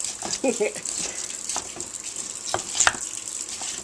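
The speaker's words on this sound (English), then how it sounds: "now you're going to add some water" Water pours into a pot of chopped corned beef and cabbage, a close, steady splashing and trickling with a few clinks of the pot, and a faint voice underneath.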